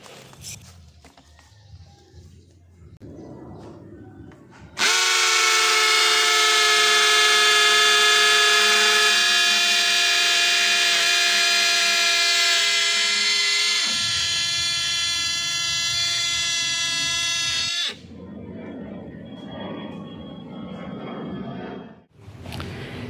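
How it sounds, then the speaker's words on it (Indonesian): A loud, steady mechanical whine of a cordless hammer drill with a masonry bit boring into a concrete wall at high speed, running continuously for over ten seconds, its pitch dropping partway through, with quieter background noise before and after. "Pengujian terakhir saya akan mengebor tembok beton, pastinya mode hammer drill untuk kecepatannya adalah yang high atau percepatan nomor 2"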